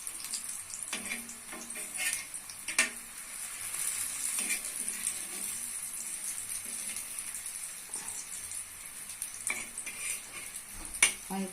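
Pumpkin slices fry gently in a pan over low heat, with a continuous soft sizzle and occasional sharp scrapes and knocks from a spatula turning them.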